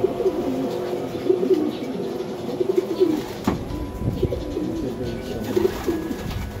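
Racing pigeons coo softly in low, rolling murmurs nearby, a continuous gentle chorus with faint background noise.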